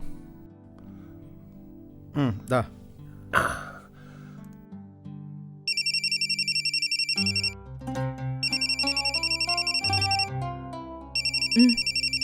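A mobile phone ringtone plays in a home, a repeating melodic tone with bright pulsing beeps that starts partway through, preceded by a few sighs and breaths and continuing loudly to the end.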